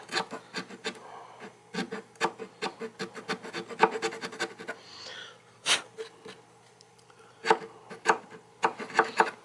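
Roughed-up wood on the dovetail of a 000-15 guitar neck is scraped clean in a steady run of short, dry rasping strokes, close and fairly quiet, with a few louder scrapes.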